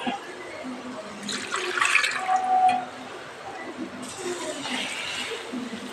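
Water splashes into a cooking pot while Chettinad paruppu urundai kuzhambu is prepared, a short gurgling pour near the mic over a quiet kitchen hiss, easing off and returning briefly.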